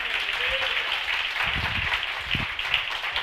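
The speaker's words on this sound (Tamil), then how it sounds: "கைத்தட்டுங்க ஒருத்தவருக்கு." A congregation at a Bible study gathering claps, a steady wash of applause running throughout with brief low voice sounds underneath.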